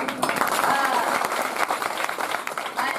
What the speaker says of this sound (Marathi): अन्नदान करणाऱ्यासाठी एकदा टाळी वाजवा